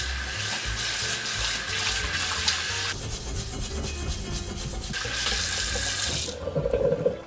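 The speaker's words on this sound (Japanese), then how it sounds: "でこれがちょっと冷めるまで置いといてから水で洗っていきます。" Running tap water pours steadily while an iron frying pan is scrubbed with steel wool at a sink, and rough rubbing and scraping sounds rise and fall under the flow.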